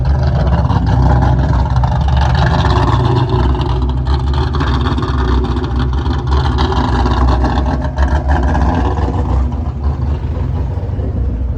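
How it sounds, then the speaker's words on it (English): A 1996 Ford Mustang with a swapped engine runs loud and close, a dense continuous rumble that holds steady and settles toward idle. "After about a minute and a half of running, it idles down."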